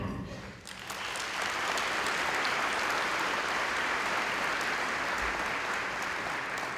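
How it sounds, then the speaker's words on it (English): Sustained audience applause at a school-year opening gathering, a dense, steady wash of many hands clapping that swells in after a brief quieter moment and holds loud and even throughout. "Another big round of applause for our school board"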